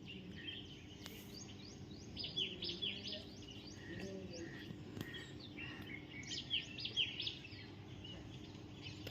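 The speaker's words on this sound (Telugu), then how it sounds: "చిలుకలు ఎంత మంచి సౌండ్ ఇస్తున్నాయి చూడండి." Parrots give bright, repeated chirping calls from garden trees at a moderate distance, in scattered clusters over a steady low background hum, with no voices.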